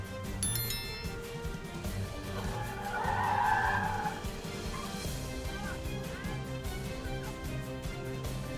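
A car skids and crashes into another car after speeding through a red light, a smeared screech swelling in the middle over steady road and engine noise, without a sharp impact standing out.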